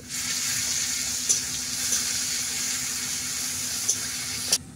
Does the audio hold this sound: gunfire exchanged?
no